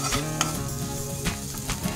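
Chopped vegetables and sweet corn sizzling and frying in a pan for ragi finger-millet soup, a steady close crackle with a few sharp stirring scrapes and clinks of the spatula against the pan.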